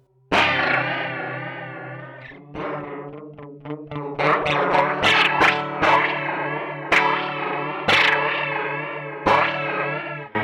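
Electric guitar through an effects pedal with the feedback control turned up, sustained notes smearing into echoing repeats, with swelling chords and sharp plucked attacks, loud and continuous.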